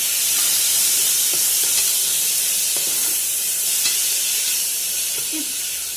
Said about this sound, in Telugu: ఇప్పుడు నేను ఆనియన్స్ వేస్తున్నానండి.